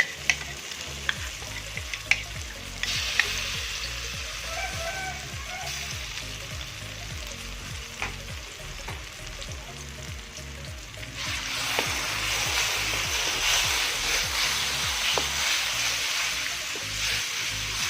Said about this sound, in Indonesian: Dan kita aduk kembali hingga merata sampai terasa aroma mewangi.